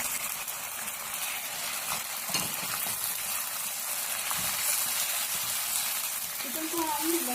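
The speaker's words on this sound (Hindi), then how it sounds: "चिकन को हम लहसुन में थोड़ा सा फ्राई करेंगे।" Boneless chicken frying with garlic in a pan, giving a steady, continuous sizzle and crackle that holds close and even throughout.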